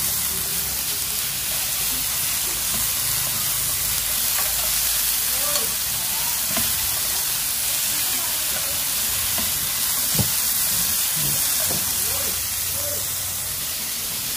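Pineapple and vegetarian seitan stir-fry in a hot pan, giving a steady loud sizzle and hiss with light scraping and stirring throughout.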